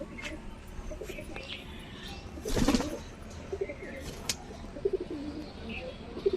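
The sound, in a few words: pigeons cooing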